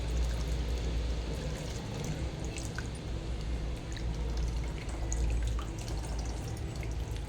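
Tamarind juice is poured into a pot of fish curry (chapala pulusu), a close, continuous liquid splashing and trickling with scattered drips.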